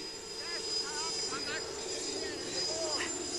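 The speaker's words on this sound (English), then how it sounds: "Yes, the helicopter." A helicopter drones steadily through the whole stretch, a constant mid-distance rotor and engine roar, with faint voices and other sounds layered over it in a Switzerland setting.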